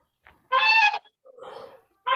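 Geese honk loudly at close range in a rural Samosir village in North Sumatra, a strong nasal honk followed by a rougher, quieter call and the start of another, with short silent gaps between.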